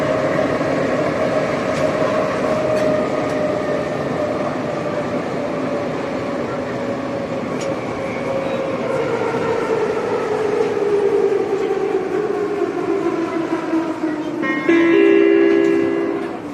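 A Soviet-built Ečs metro train runs on Prague's line C, its traction motors whining loudly and steadily, the pitch slowly falling as it slows, with a brief high squeal near the end.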